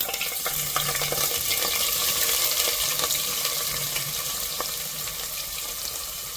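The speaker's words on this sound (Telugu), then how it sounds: "ఉల్లిపాయలు కొంచెం వేగేయండి" Onions fry in four to five spoons of hot oil for a vegetable biryani, giving a continuous, close sizzle with faint stirring clicks throughout.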